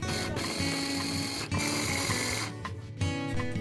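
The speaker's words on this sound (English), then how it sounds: "you put some salt into a food processor with them. You're going to blend those two until they're well combined" A food processor blends celery leaves with salt, giving a loud, steady motor whir that churns continuously with a couple of brief dips in intensity, heard close up with no talking.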